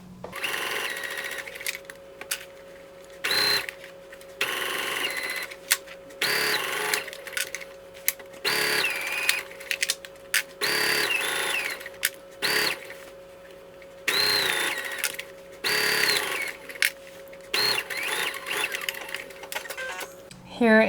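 A sewing machine stitches bias tape onto a top's armhole using the free arm, running in repeated bursts of rapid mechanical whirring separated by short pauses, fairly close and steady.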